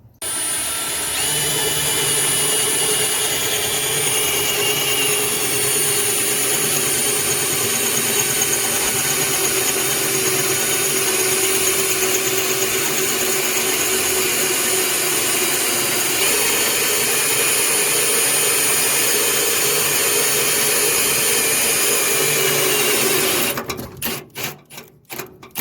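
A power drill bores a hole for a probe wire through the body of a Traeger BBQ075 pellet grill, running loud and steady for about 23 seconds before cutting off abruptly.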